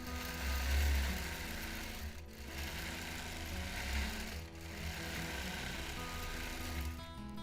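A long arm quilting machine stitching free motion, a fast continuous mechanical whirring hum that swells and eases with brief pauses, heard fairly quietly and close.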